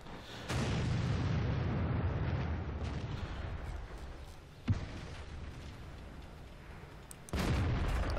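A tank gun fires in World of Tanks with a loud boom at the start, followed by a long rumbling decay, a sharp hit partway through and another heavy blast near the end.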